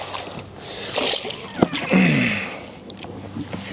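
A hooked pike thrashes at the surface, throwing a few short splashes and sloshes of water close by, with a sharp slap in the middle.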